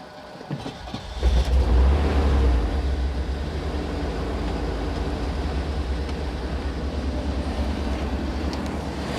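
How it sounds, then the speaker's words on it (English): A small block Chevy engine in a dumpster truck cranks briefly, catches with a loud low rumble, then settles into a steady idle that keeps running close by. "Like I said, small block Chevy. Starts every time, sometimes."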